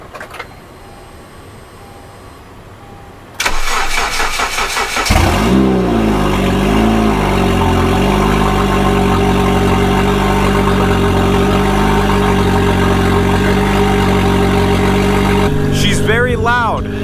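Turbocharged Honda Civic engine cranking and catching, then settling into a loud, steady, rough idle that carries on to the end, close by, with a voice briefly heard near the finish.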